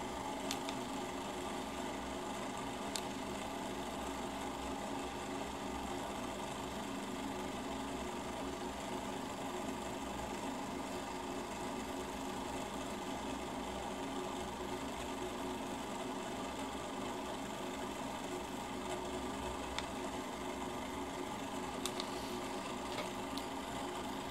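Laminar flow Stirling engine running at about 1500 rpm, a faint, steady mechanical whir and hum with a fine rapid rattle, continuous and unchanging throughout, with a few small clicks and no voices.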